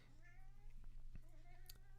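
A cat meows faintly a few times, thin wavering calls under a steady low hum, with no speech over them.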